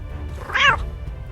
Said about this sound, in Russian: Один из Какуша обнаружил кошку.